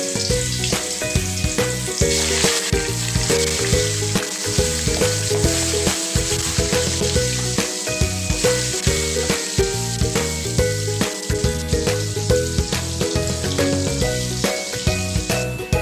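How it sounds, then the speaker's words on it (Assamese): Borali fish frying one piece at a time in a wok of hot oil, a steady, loud sizzle running throughout with rhythmic music playing underneath. "আৰু কেৰাহীত মাছখিনি এক পিচ কৈ ফ্ৰাই কৰিম। বৰালি মাছ ফ্ৰাই কৰোতে কিন্তু সাৱধান দেই,"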